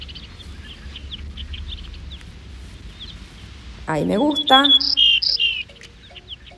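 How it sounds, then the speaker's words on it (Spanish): Bird chirps added as a sound effect in the Vimage photo app, a bright twittering burst near the end over a soft insect-like background, with a person speaking briefly. "entonces le agrego unos pajaritos"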